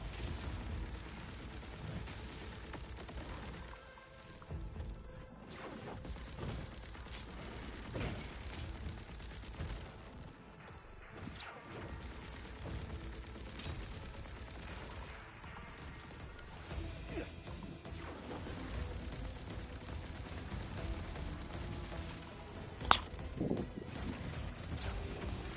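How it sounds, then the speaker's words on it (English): Dense, continuous gunfire from Borderlands 4, rapid overlapping shots under a steady roar of game noise, with a sharp louder crack near the end and no talking. "I'm just fucking shooting everywhere."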